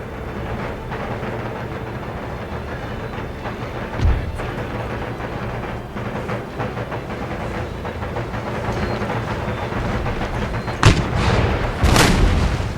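Cannon artillery in the video game Empire Total War booms over a continuous low battlefield rumble, with one heavy blast early and two more near the end.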